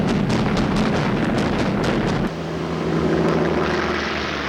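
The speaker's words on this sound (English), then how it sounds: "Almost immediately, they came under attack from low-flying US torpedo bombers" Low-flying US torpedo bombers attacking in a World War II battle scene, a loud continuous propeller-engine roar with rumbling blasts, the drone dropping in pitch halfway through as planes sweep past.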